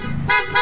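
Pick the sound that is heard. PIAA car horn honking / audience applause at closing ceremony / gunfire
PIAA car horn honking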